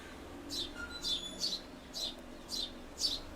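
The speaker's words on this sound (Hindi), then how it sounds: "ये देखो चिड़िया मेरे ठाकुर के गुण गा रही है।" Small bird chirping in short, repeated bursts, about six evenly spaced calls, moderately close and clear above a quiet background hum.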